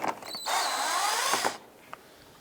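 A power drill whirs for about a second, its whine climbing in pitch as it backs out bumper screws on a 2004–2012 Chevrolet Colorado, then stops, leaving quiet with a small click.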